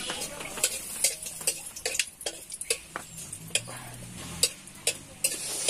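A spoon clinks and scrapes steadily in a pan as chutney with dried red chilies fries, soft sizzling beneath irregular tapping strokes, close and fairly quiet with no talk.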